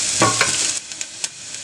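Kalathappam batter is frying in hot oil, giving a loud, steady broadband sizzle with faint stirring scrapes, which then drops away to a few light clicks and taps.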